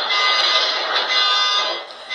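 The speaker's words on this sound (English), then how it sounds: "Vibrations so strong, they set off car alarms." Car alarms set off by a lightning strike in Pico Rivera blare together in a loud, steady, piercing electronic wail that holds throughout, then dips slightly near the end, with no voices.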